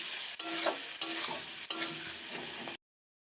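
Egg curry masala with sugar fries in a pan while a spoon stirs it in three scraping sweeps, a close sizzle rising and falling with each stroke, then sudden silence, no voices.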